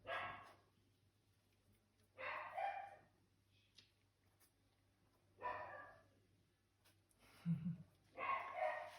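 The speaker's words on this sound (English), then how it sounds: "If you can hear my dog," A dog barks several times in spaced bursts and gives a short whimpering yip near the end. The barks are faint and slightly distant over a quiet background with a low hum.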